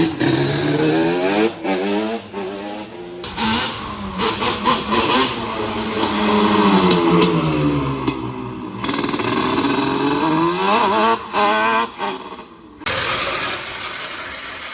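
A motorcycle engine revs hard and rides past, rising and falling through repeated throttle blips and gear changes, loud and close with short gaps between bursts.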